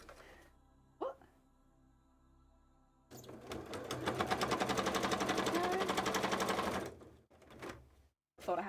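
A sewing machine stitches cosplay pieces in one loud, rapid, continuous run lasting about four seconds, framed by a brief thump and quieter moments before and after.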